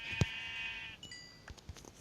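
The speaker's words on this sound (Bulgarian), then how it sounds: "Ето овце." A sheep in the Minecraft video game gives one drawn-out bleat, followed by a few faint clicks and small game sounds.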